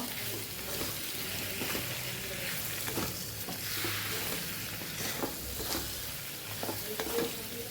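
Dry vegetable bhaji for a fasting meal, seasoned with a pinch of turmeric, is stirred and fried in a pan. A steady sizzle runs throughout with repeated close scraping strokes of the spoon and no talking.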